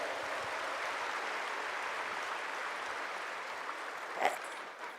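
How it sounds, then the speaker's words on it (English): Audience at a large spiritual festival gathering applauds in a steady, fairly distant wash of clapping that thins out near the end. "And big round of applause to all the audience who are present here."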